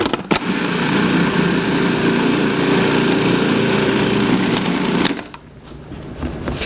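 A food processor running steadily for about five seconds as it breaks down lumps of garlic bread filling, a loud, continuous close whirr that cuts off near the end, leaving a quieter tail.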